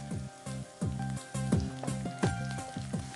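Chopped garlic and crushed dried chili sizzling in hot oil, a close crackling hiss under a looping background tune, with brief spiky pops recurring every half second or so.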